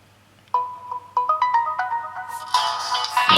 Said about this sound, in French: petite musique de base Samsung